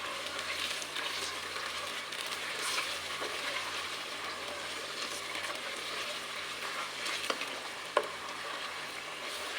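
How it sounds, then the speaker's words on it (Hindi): Half a kilo of chicken fries in a pan with onions, giving a steady, dense sizzle throughout, with a faint stir or utensil tap near the end. "फ्राई करेंगे चिकन को।"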